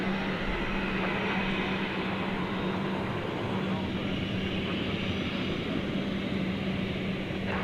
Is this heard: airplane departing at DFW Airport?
yes